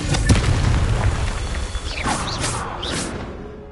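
A Confringo blasting spell detonates in Hogwarts Legacy, a deep booming burst that rolls out under layered game effects, followed by a couple of whooshing magical swishes as the blast fades.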